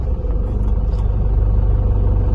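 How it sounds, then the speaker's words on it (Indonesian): A manual car in first gear creeps forward with the clutch released slowly and no throttle, giving a steady low idling engine rumble up close with no talking. "mobil bisa jalan tanpa kita melakukan penekanan pada pedal gas"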